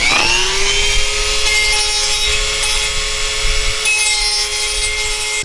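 A small sanding wheel grinds against a plastic wheel for a Honda Civic, producing a steady, loud abrasive whine with a sustained tone that holds through the whole stretch, close up and with no talking.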